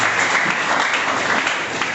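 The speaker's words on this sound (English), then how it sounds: "Please clap for him as well." An audience at a school information technology debate competition claps for the speakers, a dense, steady round of applause that stays loud and close for the whole stretch, with no clear voices over it.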